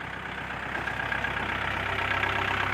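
A tractor engine, an L3408, idles close by, a continuous low rumble with an even, unchanging rhythm and no voices.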